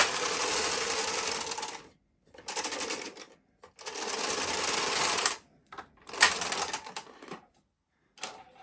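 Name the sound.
Bond knitting machine carriage knitting two rows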